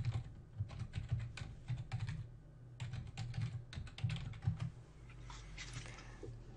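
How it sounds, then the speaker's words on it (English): Fast keystrokes on a computer keyboard clatter in irregular bursts with brief pauses, close and fairly quiet over a steady low hum. "Let me just type it in there."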